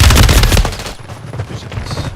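Rapid bursts of automatic gunfire from the shooter game Apex Legends, loud and dense for the first second, then thinning to scattered softer shots and background game noise.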